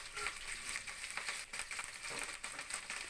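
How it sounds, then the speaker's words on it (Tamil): Curry leaves crackle and sizzle in hot oil in a pan while upma is being made, a dense steady frying hiss with small popping bursts throughout, close and fairly even in loudness. "கருவேப்பிலை போட்டு சேர்த்துக்கணும். கருவேப்பிலை நல்லா பொரிஞ்சணும், தீய விட்டுறக்கூடாது."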